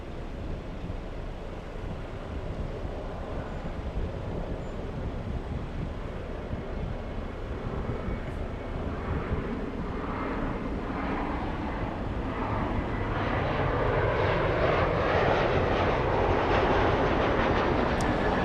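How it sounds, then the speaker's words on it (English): A China Airlines A350-900 departs LAX for Taipei, a broad engine roar that builds from a steady rumble into a louder, rising rush over the final seconds, heard alone. "A350-900 flying back to Taipei. This is China Airlines call sign Dynasty."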